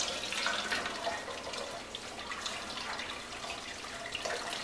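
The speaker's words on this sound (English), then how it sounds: "Let all that water drip out of there." Water draining from a homebrewing grain bag into a strainer during a pumpkin ale mini mash, a soft continuous trickle and patter of drips, faint and close, with no talking.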